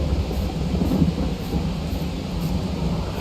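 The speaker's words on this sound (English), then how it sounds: "Oh, it's thunder." Thunder rolls in Farming Simulator 22 during rain, a continuous low rumble blended with steady rainfall hiss, broad and enveloping with no sharp crack.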